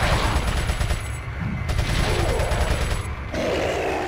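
Rapid bursts of gunfire in the video game Resident Evil 4, loud and close, with repeated volleys separated by brief gaps and a heavy rumbling low end under the shots.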